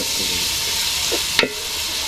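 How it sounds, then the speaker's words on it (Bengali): Onions frying in a pan for a home-cooked family meal, a steady broadband sizzle held throughout with a brief sharper clatter near the end. "এবার পেঁয়াজগুলো দিয়ে দিচ্ছি। পেঁয়াজগুলো লাল লাল করে ভেজে নেব।"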